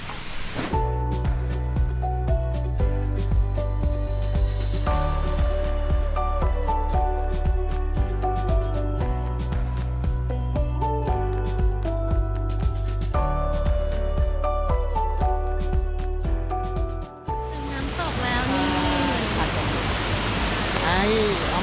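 A tall waterfall in Nakhon Nayok, about 200 metres high, pours with a steady broadband rush that swells near the end, partly under a bed of instrumental music.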